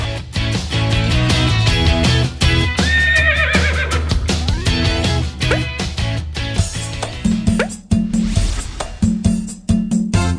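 A horse neighs loudly and repeatedly near the horse carriages of Lampang, Thailand, with whinnies over busy background sound and a high tonal chirp in the latter half.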